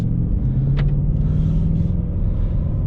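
The V8 engine of a 2021 Ford Mustang Mach 1 with a six-speed manual drones in a deep, steady rumble while driving, loud and continuous from inside the cabin, with a slight rise in pitch and no talk over it.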